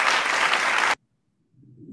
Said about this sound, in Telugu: క్లాప్స్ పట్టుకుని